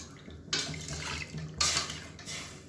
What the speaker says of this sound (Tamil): இப்போ இன்னும் 1 டம்ளருக்கு தண்ணி சேர்த்துக்கலாம்.